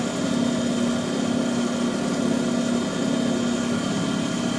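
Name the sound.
valve seat grinding head running on a lathe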